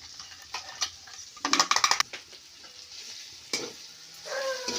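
Dry Maharashtrian bean vegetable with peanuts and green chillies stirred in a hot pan, a spatula scraping and tossing with a busy cluster of clattering strokes midway over a soft sizzle, then a lone scrape near the end.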